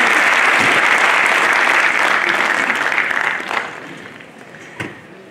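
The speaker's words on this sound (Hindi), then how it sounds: "मैं आप सबसे गुजारिश करूंगी तालियों की गड़गड़ाहट से इनका स्वागत करें" Dense applause from a large audience at a felicitation event for selected BPSC 60-62 candidates, loud and sustained for about three seconds, then thinning out with a few scattered claps before fading.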